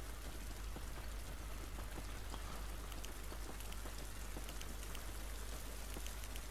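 Steady rain falls outdoors in the video game The Last of Us, a constant soft hiss of drops on surfaces with no voices, even and unbroken throughout.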